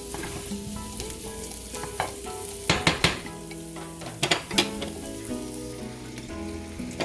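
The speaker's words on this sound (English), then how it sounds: "we can just shuffle our meatballs around in the pan just like that" Frozen meatballs sizzle in a pan with olive oil, a steady crackling fry broken by clustered clinks and scrapes as they are stirred and shuffled around.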